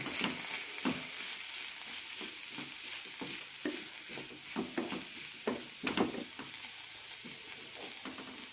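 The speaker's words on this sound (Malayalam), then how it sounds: "രണ്ട് ടേബിൾ സ്പൂൺ തേങ്ങയും നന്നായി വഴറ്റാം" Ash gourd pieces with tomato and grated coconut are sautéed in a pan for chutney. The spoon stirs and scrapes in a steady rhythm of clear taps over a soft continuous sizzle, with no talking.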